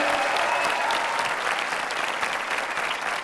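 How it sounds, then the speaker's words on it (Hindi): A mushaira audience at a poetry festival claps loudly to welcome poets Javed Akhtar and Waseem Barelvi, a full, sustained crowd applause that stays dense and close from start to finish. "जोरदार तालियों से एक बार उनका इस्तकबाल किया जाए।"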